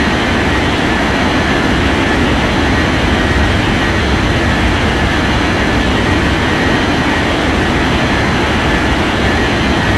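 Jet airliner roaring on takeoff from a runway in an air traffic control game, a loud, continuous broadband engine rumble that stays steady throughout with no talk.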